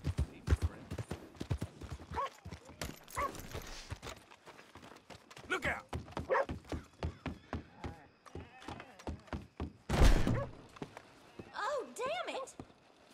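Horse hooves clip-clopping in Red Dead Redemption 2, a run of uneven thuds at walking-to-trotting pace with a brief louder burst near the end, under a speaking voice.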